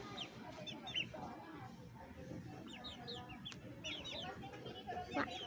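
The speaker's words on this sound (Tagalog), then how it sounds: "45 days na manok yan." Forty-five-day-old chickens cluck constantly in a busy farm chorus, with overlapping calls and a steady background hubbub.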